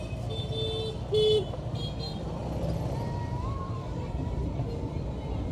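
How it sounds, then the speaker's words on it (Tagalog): Busy street traffic in Pasay rumbles steadily, with a short car horn toot and passing engines, and a voice talks briefly under the din. "Grabe yung traffic oh."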